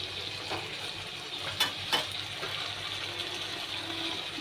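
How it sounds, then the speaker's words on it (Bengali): Meat curry sizzles steadily in a pan as it is stirred after coriander leaves go in, a constant frying hiss with a couple of brief scraping knocks of the spoon. "এবার আমি ধনে পাতাগুলো দিয়ে দিলাম, দিয়ে হালকা একটু নেড়ে নেব।"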